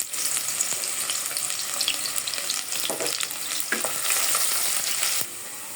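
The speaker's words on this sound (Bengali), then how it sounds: "পেঁয়াজটা ভাজা হয়ে গেছে।" Chopped onion sizzles and fries steadily in a pot with cardamom and cinnamon for chicken khichuri. A close, continuous hiss is broken by a few scraping stirs, and there is no talking.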